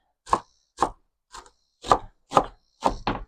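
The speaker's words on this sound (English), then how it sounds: "I'm just going to roughly chop it like so." A knife roughly chops cabbage on a cutting board for coleslaw, giving seven crisp, fairly evenly spaced thuds with short silences between them and the last two close together.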